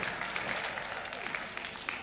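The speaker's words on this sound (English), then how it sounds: "give him a cheer." A concert audience at the Brighton Centre applauds and cheers for a tribute band performer, a dense wash of clapping heard from a distance, fairly quiet and steady throughout.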